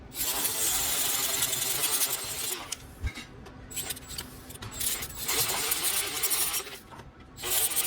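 Abrasive scrubbing and rasping on metal, continuous and fairly loud with brief dips, as a polishing wheel cleans up Ford Focus DPS6 transmission clutch parts; no talking.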